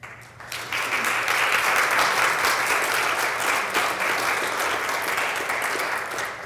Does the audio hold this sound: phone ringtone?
no